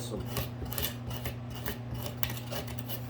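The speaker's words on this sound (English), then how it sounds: "And with this I'm using the 80 grit sandpaper." Wooden frame corners being hand sanded with 80 grit sandpaper give off quiet, repeated short scratchy rubs at close range over a low background hum.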